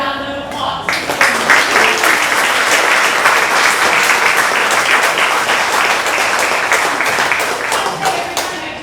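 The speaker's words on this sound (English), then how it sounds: "So give yourselves a round of applause." An audience at a ribbon cutting breaks into loud, sustained applause, many hands clapping close by for several seconds, with a voice heard briefly at the start.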